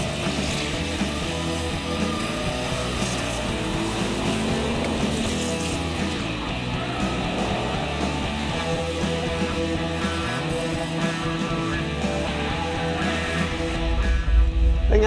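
A Ford Lightning or Chevy 454 SS muscle truck spins a single wheel in a grudge match. The engine roars loud and steady the whole time, with a continuous whine of rubber and a surge near the end.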